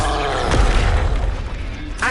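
A Flipendo spell cast in a Harry Potter video game lands as a deep, booming burst that rumbles briefly and then fades, loud and near.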